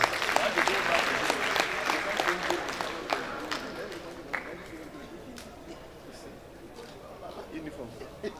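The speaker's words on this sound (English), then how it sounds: "I think we're going to give her a round of applause." Audience applause at a professional women builders' association event in Nigeria, strong clapping at first that gradually thins and fades, with faint voices underneath toward the end.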